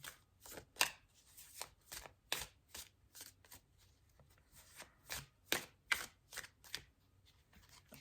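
Tarot cards are shuffled by hand, giving close, soft riffling bursts and taps in an uneven rhythm, quiet and without talk.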